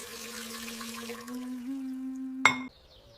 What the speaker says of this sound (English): I wash the dishes.